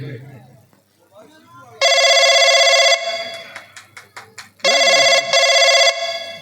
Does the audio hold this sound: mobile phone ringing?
yes